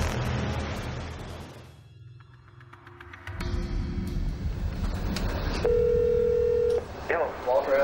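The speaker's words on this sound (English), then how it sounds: "Walter Maestri receives a worrying phone call." Telephone keypad tones beep during dialing for a call, preceded by a muffled rush of noise, with a sustained pure tone near the end.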